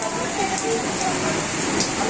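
Steady rain falls outdoors in a village, a continuous wash of close patter that stays even from start to finish.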